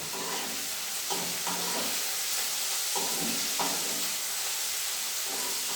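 Nutmeg and other spices with a little salt dry-roast in a hot pan, a soft continuous hiss broken by several light stirring scrapes, with no talk.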